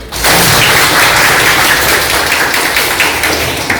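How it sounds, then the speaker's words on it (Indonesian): A group of schoolchildren claps together in a classroom, a loud, busy burst of close clapping that starts abruptly and continues without pause. "Tepuk tangan."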